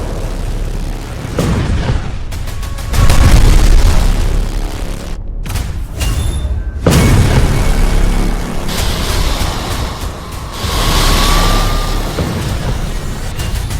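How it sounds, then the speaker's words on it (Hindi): Explosions near Mehrabad Airport in Tehran, heavy rumbling booms and blasts that come in loud surges, with sharp bursts and sustained roaring between them. "तेहरान में मेहराबाद एयरपोर्ट के पास धमाके।"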